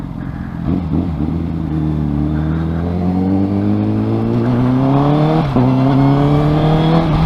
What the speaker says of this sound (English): with a slip-on, this exhaust feels, or sounds, sorry, incredibly Italian